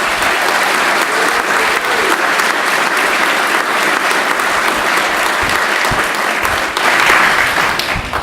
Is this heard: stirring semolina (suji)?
no